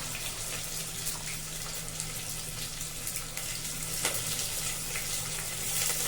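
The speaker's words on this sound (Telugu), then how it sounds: "ఒక ఉల్లిపాయ చాప్ చేసి వేసుకోండి." Chopped onion frying in a pan makes a soft, continuous sizzle with a faint running-water hiss and occasional light stirring, no voices.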